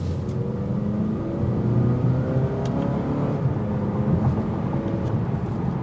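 A 2023 Mazda 3 hatchback engine in sport mode hums steadily from inside the cabin, a constant low drone with faint rising tone as the car accelerates forward.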